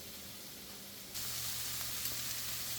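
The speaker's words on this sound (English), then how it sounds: "they're currently sweating off right now, and you can see it's starting to get a little char in some places" Onions sweating and starting to char in a pan, a steady hissing sizzle that suddenly grows louder partway through and then holds, with no voices.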